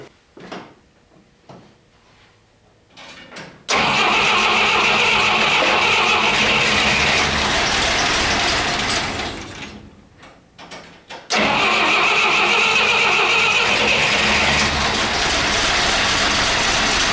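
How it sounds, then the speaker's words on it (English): A 1962 Dodge D100 pickup with a slant six engine cranks and fires up twice, each time settling into a loud, steady running roar close by. A brief stop comes between the runs, with a backfire noted. "I'm gonna hopefully get this thing to fire up and run. Definitely fired up, ran, but got a little backfire."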